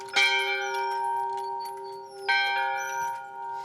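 A church bell rings out with a long sustained tone, then a second clear strike about two seconds later, its rich overtones ringing on and slowly fading.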